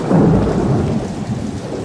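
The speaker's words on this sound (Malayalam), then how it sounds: "ഇത്തവണ മഴ കടുക്കുമെന്നാ തോന്നുന്നേ" A radio-drama sound effect of a heavy monsoon storm in rural Kerala: rolling thunder over dense, steady rainfall, loud and continuous with no voices.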